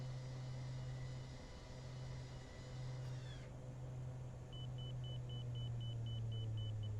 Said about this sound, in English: Why is it beeping at me?